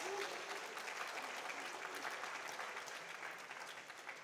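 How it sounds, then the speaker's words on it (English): Dense, steady applause from an audience at a junior science and maths quiz championship, a continuous wash of many hands clapping with no break. "Let's clap for them as they switch."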